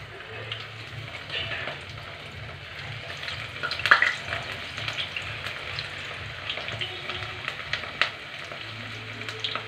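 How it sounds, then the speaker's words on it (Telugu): Pakoda frying in a small amount of oil, with a soft continuous sizzle and occasional stirring, quiet and close, with no voices. "ఇప్పుడు పకోడీ కింద వేసి ఆయిల్ పెట్టానండి"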